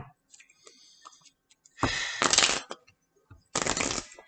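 Tarot cards being shuffled in short riffling bursts, two loud close flurries separated by quieter taps and clicks of the deck being handled.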